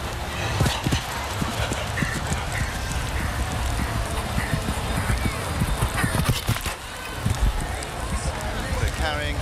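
Show jumping horse at a Longines Global Champions Tour event, galloping hoofbeats thudding steadily between fences with a clatter over an oxer-upright combination, under continuous arena commentary.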